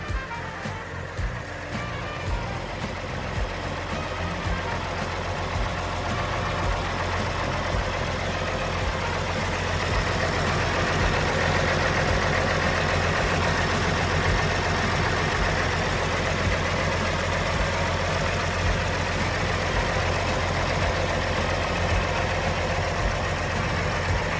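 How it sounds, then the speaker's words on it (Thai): A Nissan diesel engine in a TCM L39 wheel loader idles close up with a steady, rumbling chug and audible injector clatter, running continuously and evenly throughout with no voices. "เดี๋ยวมาดูสภาพเครื่องนะฮะ ฟังหัวฉีดของเขากันก่อนนะครับ"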